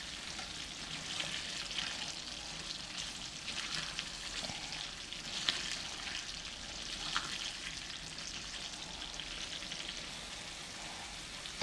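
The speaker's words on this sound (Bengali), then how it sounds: "এরকম হাই হিটে এটাকে পানি শুকাতে হবে এবং একটু ভাজা ভাজা করতে হবে" Butt karahi frying on high heat, the liquid cooking down in the pan with a steady, dense sizzle and crackle that runs unbroken at close range with no talk.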